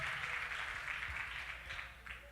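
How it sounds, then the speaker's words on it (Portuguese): A church congregation applauding birthday celebrants, a soft, steady wash of clapping somewhat distant and faint, fading slightly toward the end. "Pode aplaudir para esses aniversariantes aqui."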